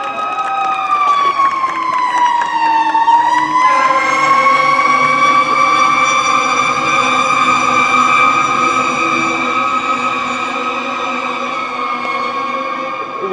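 A fire truck siren wails loud and close, sweeping down in pitch then holding a steady rising-falling tone with engine rumble beneath, passing by an outdoor girls' varsity ultimate frisbee game, with faint voices underneath.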